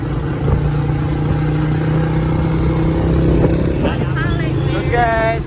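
A motorcycle rides steadily through a village in Probolinggo, its engine humming continuously and close by, with a voice speaking briefly near the end.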